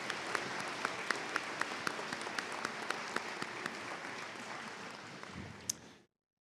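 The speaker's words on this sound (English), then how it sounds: "And let's give them a deserved round of applause." Graduation guests, faculty and staff at a college commencement ceremony applaud with a steady, moderately distant wash of clapping, sharp individual claps standing out, fading away after about six seconds.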